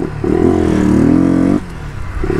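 A Honda Twister Flex motorcycle engine running on diesel in its tank revs up close and loud, holds a rough buzzing tone for over a second, then drops back to a lumpy idle.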